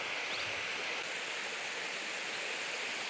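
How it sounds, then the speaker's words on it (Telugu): Water pours over a stone weir in a steady, dense rush heard close by, with no voices. "ఇగో ఇదే మత్తడి"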